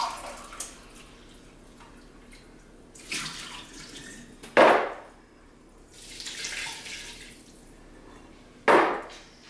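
A cup of boiling water pours in short bursts into cake batter, splashing and trickling, with a couple of sharp knocks in between.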